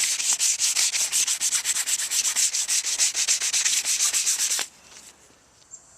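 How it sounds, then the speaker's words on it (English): Rapid rhythmic strokes of 400-grit sandpaper rasp back and forth on a damp wooden rifle stock, close and steady, then stop abruptly, leaving quiet with a faint knock. "While it's still damp, I'll take the 400 grit and just go over"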